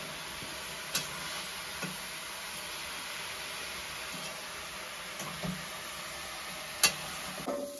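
A spatula (khunti) stirs food in a sizzling pan, a constant hissing fry under occasional light scrapes and taps, with a sharper clatter near the end; no speech.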